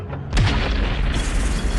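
A Tiger tank is blown up in a loud, close explosion: a sudden deep boom that swells and then rolls on as a broad rumbling roar, with no voices heard.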